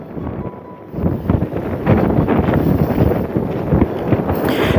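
Strong wind gusts buffet the microphone at a salt evaporation pond near a stadium, a loud, steady roar that swells after the first second and stays rough and continuous.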